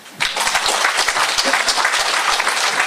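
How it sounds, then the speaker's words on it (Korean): Group applause during an Old Testament Bible lesson: steady, dense clapping from many hands that starts abruptly and holds at an even, loud level throughout. "박수 쳐주세요"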